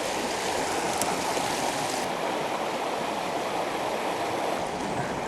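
The Dessoubre river flows steadily in a broadband rush, a continuous near wash of water with no talk.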